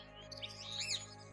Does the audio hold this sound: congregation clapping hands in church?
no